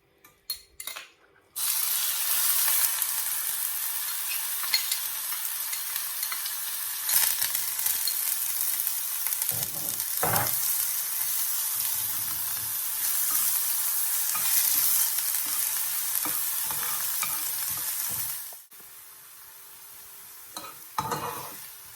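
Onion and garlic fry in olive oil in a pan, a loud continuous sizzle with stirring scrapes, starting abruptly and ending with a few clinks of utensils.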